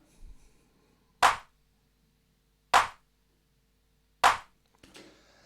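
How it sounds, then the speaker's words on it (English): Single clap sample for music production, repeated three times at an even spacing of about one and a half seconds, each a sharp, loud, dry hit alone against near silence. "find a good clap sound, like a sample of your choice"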